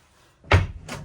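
A hotel room safe door in Ponta Delgada swings open with a close, solid clunk, followed by a softer second knock of the door.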